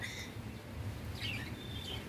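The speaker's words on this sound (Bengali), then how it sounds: "এখানে পাখি কিচিরমিচির শব্দ" Faint high chirps from birds flicker in and out over a low, steady background rumble of light drizzling rain outside, with no voices.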